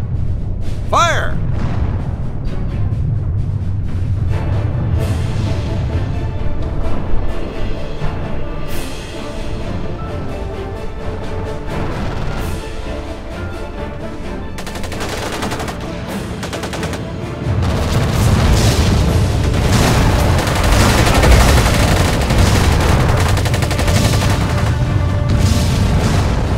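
Artillery barrages and gunfire rumble from a World War II strategy game, with heavy booms and crackling shots over a low, continuous battlefield roar that swells louder toward the end; voices speak at times.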